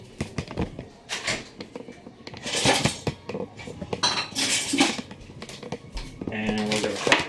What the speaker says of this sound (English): So you grab yourself a nice spatula.